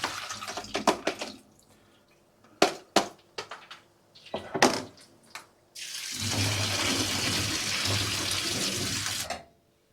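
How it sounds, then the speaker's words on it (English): Soaking water being poured off lentils, first intermittent splashes and clatter, then a steady loud stream of running water for several seconds before it stops abruptly. "let me remove the water where the lentils soaked in."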